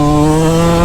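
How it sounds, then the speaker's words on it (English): Yamaha YZ125 two-stroke dirt bike engine held at a steady high rev, a loud close buzzing drone with a strong whine and no talking. "I'm not used to a YZ125, so I don't know how far I'm supposed to rev these things out."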